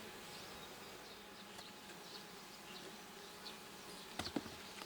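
Honey bees hum around the hives of a stationary apiary in a continuous, faint, even buzz, with a few brief knocks near the end and no voices.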